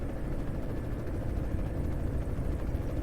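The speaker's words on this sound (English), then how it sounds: "Guessing that's some sort of police helicopter." Steady low rotor drone of a police helicopter in Euro Truck Simulator 2, loud and constant with a rumbling, chopping texture and no other sounds.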